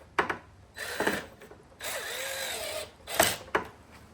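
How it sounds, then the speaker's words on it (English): A power drill whirs in short bursts into wood, with one longer steady run in the middle, close and fairly quiet. "I'm just drilling too hard into these things."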